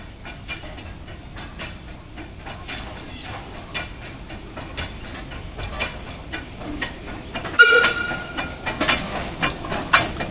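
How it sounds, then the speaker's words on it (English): A train rumbles past on Queensland's Fraser Coast with a steady hiss and clattering, growing louder toward the end as a sharp whistle-like squeal cuts in. "you can hear the train"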